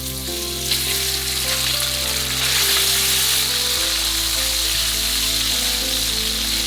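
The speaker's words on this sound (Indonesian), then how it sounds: "Lalu goreng ayam terlebih dahulu." Chicken pieces fry in hot oil in a pan, a dense, steady sizzle that swells slightly midway, running continuously under background music.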